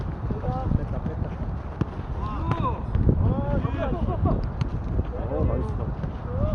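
Steady gusting wind roars across an outdoor court during a rainy, blustery jokgu tournament final in Incheon, with players and onlookers chattering and calling out over it.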